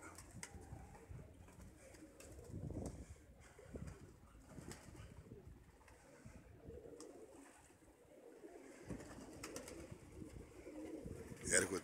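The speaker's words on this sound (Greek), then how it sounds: "Ορθώνουν τα περιστέρια." Pigeons coo and flap their wings as a flock takes off, the soft calls and wingbeats fairly quiet amid outdoor ambience, with occasional voices nearby.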